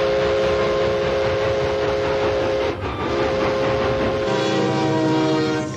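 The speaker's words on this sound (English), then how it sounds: "The haunting voice of the steam engines enchanted dreamers of every age." A steam locomotive's whistle sounds in long, steady harmonic blasts over the loud rumble and clatter of a passing train, fading slightly near the end.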